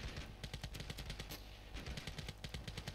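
Automatic pistol in Ravenfield firing in rapid bursts, a dense rattle of sharp shots continuing through with a short pause midway, close and punchy with no talk.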